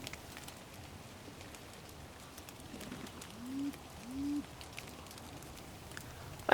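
Wood pigeons give two short, soft coos in the middle of the stretch, heard at a distance over steady rain hiss in the countryside.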